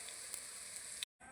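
Faint, continuous hissing sizzle of corn fritters frying in oil, with a few light pops, cutting to silence for a moment near the end before the sizzle resumes.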